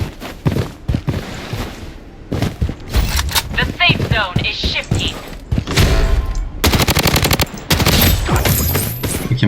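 Bursts of RPK machine gun fire in the shooter game Blood Strike, rapid loud volleys of automatic shots with short gaps between them, layered with other game effects and someone talking excitedly.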